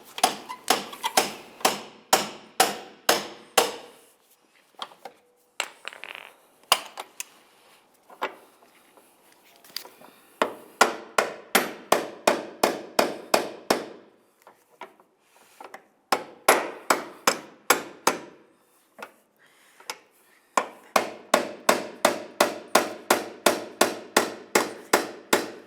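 Sharp metal hammer blows drive out a door hinge pin on a 2005-2010 Dodge Dakota, landing in fast rhythmic bursts of about a dozen strikes each, separated by short pauses with quieter handling noises.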